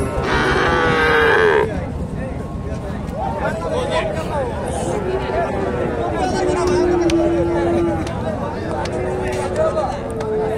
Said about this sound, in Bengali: এখানে একটা ফ্রিজিয়ানের ক্রস।